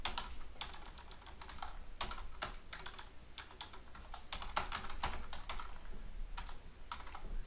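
Close, quiet clicking of fingers typing on a computer keyboard, uneven bursts of keystrokes with short pauses throughout and no speech.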